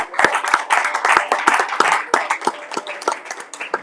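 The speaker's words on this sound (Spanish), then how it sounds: "un aplauso al Señor." A church congregation claps during a worship service, a dense run of sharp, uneven hand claps with a crowd of voices faintly mixed in, steady and close for several seconds.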